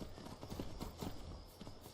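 Horse hooves clip-clop steadily in the Skyrim video game, a brisk repeated hoofbeat rhythm over a dense ambient game background.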